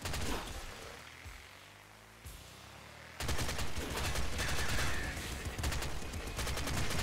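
Frost Pop Gun firing icicles in the roguelike shooter Nuclear Throne: a quieter stretch of scattered popping, then a loud, dense, continuous crackle of rapid shots and bursts filling the rest.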